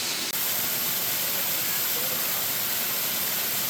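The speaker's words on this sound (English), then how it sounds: "Pretty waterfall on a pretty blue sky day." Stiles Falls, a tall waterfall in Floyd County, Virginia, gives a steady broadband rush of falling water, constant and fairly faint, heard alone.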